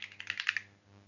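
Computer keyboard typing during a Pi-hole setup walkthrough: a quick run of about eight close key clicks over roughly half a second, then fading to quiet with no voice.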